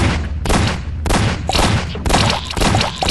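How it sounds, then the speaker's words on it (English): Shotgun blasts in the PC video game Obludia, about four loud booming shots in a slow, steady rhythm, each one ringing out broadly before the next. "I'll show you the shotgun here. It's not bad, but it's slow."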